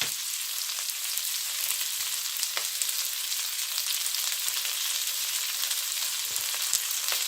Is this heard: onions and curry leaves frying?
yes